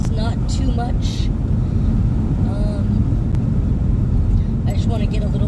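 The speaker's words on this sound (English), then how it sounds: "I hope that the wind noise is not too much." Constant low roar of wind rushing past a car driving on a road between Batesville and Richmond, Indiana, with a window partly open; a steady broadband rumble that stays loud throughout, with faint voice traces over it.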